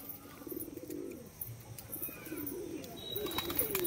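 Pigeons in a loft give soft, low, repeated coos with faint wing flaps and a few chirps, fairly quiet against a light background hiss.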